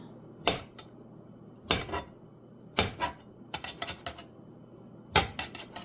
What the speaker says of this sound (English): I started chopping my sausage